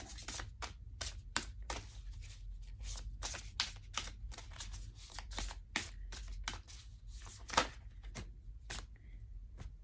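A deck of oracle cards is shuffled by hand, a quiet run of quick, papery riffles and slaps that repeat steadily with no speech.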